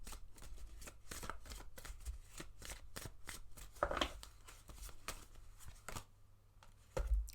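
Tarot cards being shuffled in a steady run of quick riffling slaps for several seconds, close and fairly quiet, with no talking.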